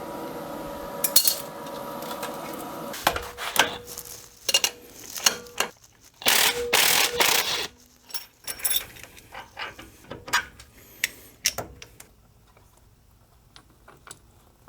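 A ratchet and wrench unbolting parts on a Jeep YJ during a Dana 60 axle swap, scattered metallic clicks, clanks and bursts of ratcheting at close range, loud in places and separated by quiet gaps.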